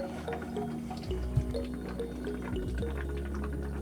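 Gentle bubbling and gurgling of beer gas during a sealed keg-to-keg transfer as a valve is cracked slightly open, a steady liquid burble with a faint drip, close and continuous.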